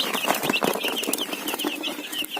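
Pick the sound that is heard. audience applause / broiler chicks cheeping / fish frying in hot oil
broiler chicks cheeping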